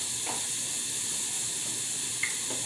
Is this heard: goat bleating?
no